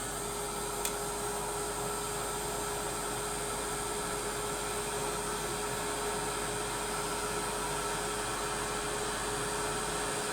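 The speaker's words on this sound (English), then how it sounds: "I'm going to dry it now with the heat gun" Heat gun blowing steadily to dry a decorated journal cover, a continuous loud even hiss of air with a low motor hum, unbroken throughout.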